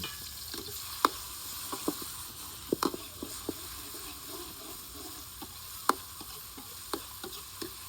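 Chili and garlic paste stir-frying in a pan for a spicy Thai basil clam dish, a soft steady sizzle under scattered sharp clicks and scrapes of a spatula against the pan, fairly quiet and close, no talking.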